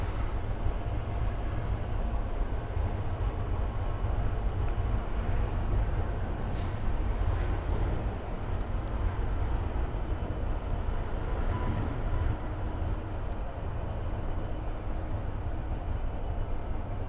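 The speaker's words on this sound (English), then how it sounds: "that's a rapido takeoff, AeroMexico" An AeroMexico airliner taking off at Miami airport, a steady broad engine roar that stays loud and constant throughout, with no talk over it.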